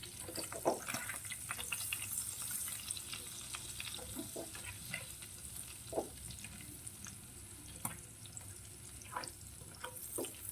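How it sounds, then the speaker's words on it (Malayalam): Butter melting in a hot pan for butter garlic chicken, giving a soft, steady sizzle with scattered pops and small clicks of a utensil, fairly quiet and heard alone. "നമ്മൾ പാൻ ചൂടാക്കി കുറച്ച് ബട്ടർ ഇതിൻ്റെ അകത്തേക്ക് ചേർക്കുകയാണ്"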